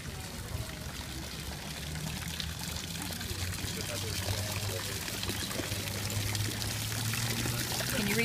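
Water pours and splashes steadily in a public fountain at an outdoor children's art setting. It makes a continuous broadband rush, and a faint low hum and distant voices sit beneath it.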